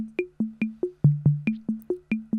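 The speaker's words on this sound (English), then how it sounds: "this will have an old Roland TR77 drum machine going through it" An old Roland TR77 drum machine runs through a FuzzBillion fuzz pedal, tapping out a steady, even pattern of short, punchy kick and snare-like hits with quick decays, heard alone.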